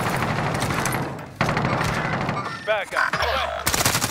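Gunfire in Call of Duty: Modern Warfare: dense bursts of automatic fire and shots crackle steadily through the whole stretch, briefly dropping away near the end, with voices talking over the combat.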